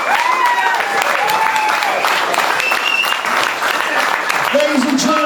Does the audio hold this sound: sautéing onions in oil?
no